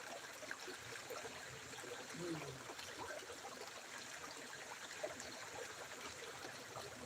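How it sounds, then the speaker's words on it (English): Water runs steadily at the foot of a waterfall on a gold-prospecting outing, a soft, even rush and trickle that continues without break at low volume. "Right there at the bottom of the waterfall."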